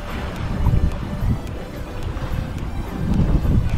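Steady wind buffets the microphone on the Doha Corniche waterfront in Qatar during shore fishing, a continuous low rumbling roar that swells toward the end, with no talk.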